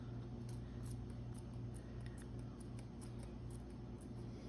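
Scissors cut paper for a hinge in a handmade junk journal board book, making faint, close, repeated small snips over a steady low background hum.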